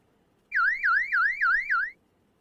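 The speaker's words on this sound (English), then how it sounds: "120 decibel U-lock alarm" A 120-decibel U-lock alarm for a scooter shrieks in five rapid rising-and-falling electronic whoops, loud and close, lasting about one and a half seconds before cutting off into quiet.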